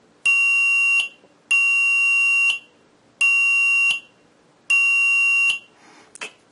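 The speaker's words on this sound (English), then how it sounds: "the piezo should sound." A piezo buzzer in a PNP transistor intruder alarm circuit gives four loud, shrill, piercing beeps, each about a second long with short gaps between, followed by a few faint clicks.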